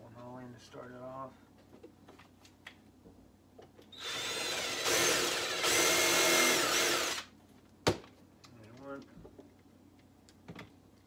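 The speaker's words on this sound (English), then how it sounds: "Let's get to drilling this." A power drill bores holes into wood while a mink box is being built, running in a loud sustained burst of about three seconds, stopping briefly and starting again, with someone speaking before and after.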